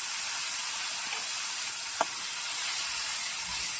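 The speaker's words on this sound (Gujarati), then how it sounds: "હવે એમાં આપણે આદુ લસણ ટમેટા અને ડુંગળીની જે પેસ્ટ બનાવી છે એ એડ કરીશું" Ginger, garlic, tomato and onion paste sizzles in hot oil in a pan for a ridge gourd curry, a steady bright hiss close by with a faint clink near the middle and no talking.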